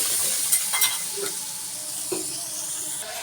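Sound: chilli being stir-fried in a pan

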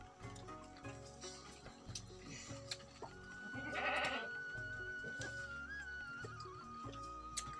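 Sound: goat bleating

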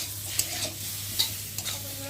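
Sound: spice paste frying while stirred

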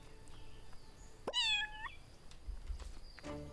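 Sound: cat meowing while petted in video game Everdream Valley

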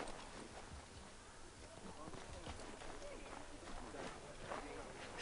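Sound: horse hooves clip-clopping in video game

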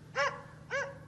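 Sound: dog barking while hunting

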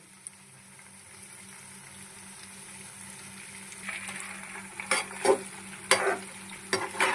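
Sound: chicken pakoda frying and being stirred

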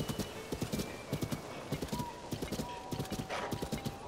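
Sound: giant horse hooves and neigh in video game Zelda Tears of the Kingdom

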